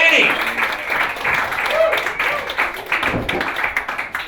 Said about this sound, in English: give him a big round of applause and welcome him to the stage, Dan Boulger